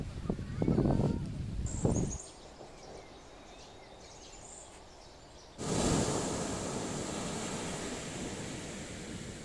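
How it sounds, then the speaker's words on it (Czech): Ocean waves wash onto a sandy beach in Portugal near sunset, a broad steady roar of surf that drops away and then swells back strongly, with faint birds and brief background voices early on. "relaxu a uklidnění za zvuku vln"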